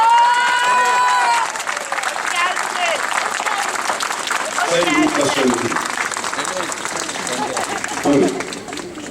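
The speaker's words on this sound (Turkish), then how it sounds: "Kuvvetli bir alkışlar." A crowd applauds and cheers at a CHP political rally in Gerze, Turkey, as a parliamentary group deputy chairman is invited to speak. The clapping is loud and sustained, with whistling early on and voices speaking over it.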